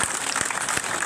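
A brief burst of audience applause at an LIC employees' federation gathering, a close, dense crackle of many hands clapping at once.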